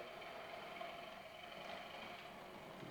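A steady low engine rumble with a faint mechanical hum, like a small diesel idling, from a DCC sound-equipped model railway locomotive, continuous and fairly quiet throughout.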